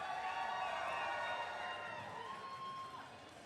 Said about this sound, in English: Let's hear you if you're cheering for the Blue Alliance